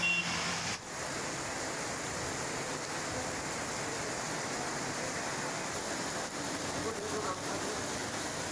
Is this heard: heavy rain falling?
yes